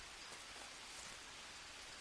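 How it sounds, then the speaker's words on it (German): Heavy rain in the jungle survival video game Green Hell, a faint, steady wash of dense downpour with no talking. "dass es regnet, als ob es einen Morgen gäbe"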